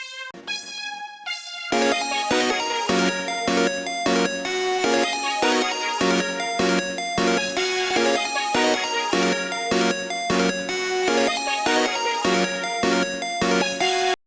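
A bright, buzzy synth lead plays a fast, repeating melody in FL Studio over a steady low pulse in an underground-style beat. It is loud and close, after a brief quieter opening, with no voices.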